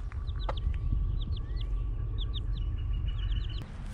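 A mother hen with her chicks in a chicken run: a series of short, high chirps and peeps repeat across a steady outdoor rumble, with a low background hum throughout.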